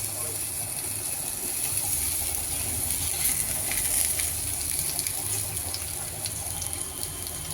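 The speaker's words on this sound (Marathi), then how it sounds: "छान असं स्लो फ्लेमवरती फ्राय करणार आहोत।" Bangda mackerel frying in hot oil over a slow flame gives a steady, close, hissing sizzle that stays even throughout with small crackles.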